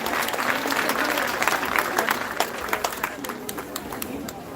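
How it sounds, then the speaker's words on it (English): A graduation ceremony audience gives a guest speaker a sustained round of dense applause, many hands clapping at once in a continuous roar that eases slightly toward the end. "Another round of applause, please, for our guest speaker."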